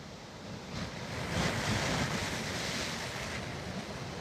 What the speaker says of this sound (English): This is the waterfall place.